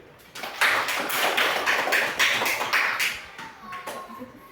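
Schoolchildren in an Indonesian classroom clap their hands together after a classmate's correct answer, a dense burst of many small hands that fades toward the end, with faint talk underneath.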